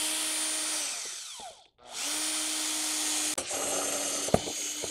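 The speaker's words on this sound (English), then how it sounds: "Rather than drilling all the way through the other side this way, you'll wind up with a cleaner hole." A power drill bores a hole: a loud, steady whine that slows and briefly stops, then spins back up and runs continuously, with a couple of sharp knocks near the end.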